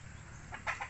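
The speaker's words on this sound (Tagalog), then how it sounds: "mga manok natin" Native chickens on a Philippine farm give a few short clucks near the end, moderately close, over a low background hum with no talk.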